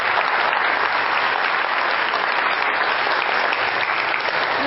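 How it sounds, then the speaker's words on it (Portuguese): A church audience applauds during a sermon about Padre Pio, with sustained, even clapping that stays dense and loud throughout, no pauses and no speech over it. "pode aplaudir, pode aplaudir."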